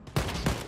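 Two quick loud gunshots in the game Wolfenstein Youngblood, close and sharp with a short tail, about a third of a second apart.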